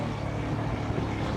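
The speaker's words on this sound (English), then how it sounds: "It's not a V12, but it just has a wonderful sound that's reminiscent of the smaller engine race cars." A 1972 Ferrari 246 GT Dino coupe with a freshly rebuilt, smaller-than-V12 engine running, a steady loud mechanical drone heard from the passenger seat.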